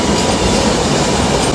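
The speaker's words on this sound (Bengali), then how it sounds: "এই যে যে মালগাড়ি যাচ্ছে, মালগাড়ি" A freight train rolls past close by in West Bengal, a dense, loud, continuous rumble with wheel squeal and rattling wagons, no voices.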